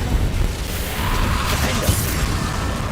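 Hogwarts Legacy's Confringo explosive spell fires in a dense, loud burst of game effects, a sustained booming rumble with whooshes and small pops, steady for a few seconds without pause.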